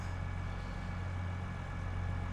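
A big tractor in Farming Simulator 22 idles with a steady, low, even engine drone, alone and fairly quiet throughout.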